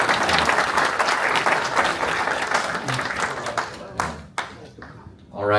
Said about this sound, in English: So big round of applause for Jamie Connolly.